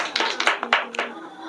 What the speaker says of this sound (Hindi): ताली बजाइए सब लोग जी।